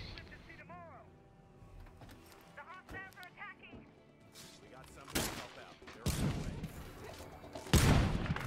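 Gunfire in a sheriff-mission shootout in a video game, with broadband bursts of shots growing louder toward the end, the last blast the loudest, after quieter game sounds and voices early on.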